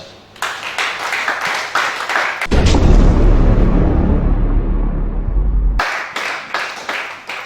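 A church congregation at a worship service in Gabon applauds: scattered claps open, swell into a loud, dense burst of applause for about three seconds, then drop back to separate claps.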